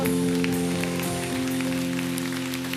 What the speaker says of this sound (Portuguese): E aplauda Jesus com alegria.